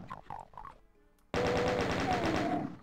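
Chain gun in Ultimate Doom fires a rapid, steady stream of loud, dense shots that start abruptly after a short quiet gap and some earlier game sounds, continuing without pause.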